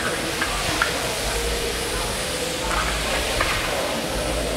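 Thai chicken stir fry sizzles in a hot pan, a steady broad hiss that continues evenly throughout with faint occasional clicks from the pan.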